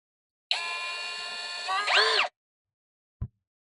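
A Tex.AC TAOE-CD34D cordless drill motor whines steadily for under two seconds, then rises in pitch before cutting off, followed by a single short thump.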